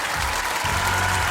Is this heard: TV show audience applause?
yes